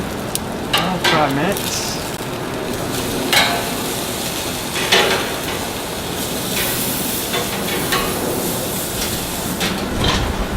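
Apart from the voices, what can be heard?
New York strip steaks sizzling on the grill as they're flipped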